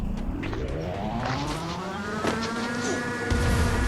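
Vehicle engine in a battle royale video game: a steady, continuous motor drone with rising and falling whine as the vehicle accelerates, loud and close throughout, under noisy gameplay sounds.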